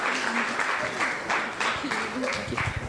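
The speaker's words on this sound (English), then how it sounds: "Let's give it one more round of applause to our new next gen pastor, Sun Shim." Applause for a new next-gen pastor at a church family service, a steady mid-level wash of clapping lasting the whole moment, with faint voices and cheers mixed underneath.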